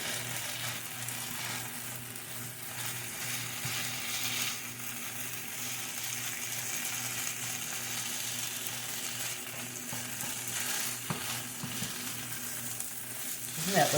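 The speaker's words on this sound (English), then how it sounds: "Okay, this is frying up real nice." Corned beef hash and onions frying in a pan give a steady, close sizzle that holds evenly for the whole stretch, with small stirring scrapes and faint kitchen noise beneath, and no talking.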